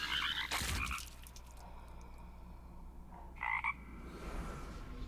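Cartoonish frog croaks from the Rain of Frogs card in the Eternal digital card game sound as sharp bursts, one loud near the start and another around the middle, over a steady background hum.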